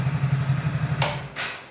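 A Hero Splendor motorcycle engine idles on a cold start with a steady low throbbing hum, then two short bursts of broadband hiss break in near the end.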